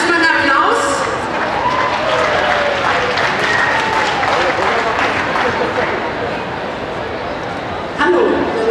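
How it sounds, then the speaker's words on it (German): Audience applause fills a convention stage at an anime fan event, a steady, dense clapping crowd sustained for several seconds, with voices and a few cheers mixed in near the start and end. "Erstmal ein Applaus."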